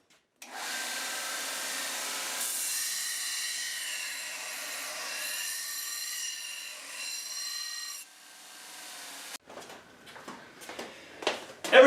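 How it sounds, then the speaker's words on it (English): A belt sander grinds the sharp edges off metal in a steady abrasive rasp for several seconds, then cuts out and is followed by softer scraping and handling noises. "Sometimes I have to take away the sharp edges on a belt sander."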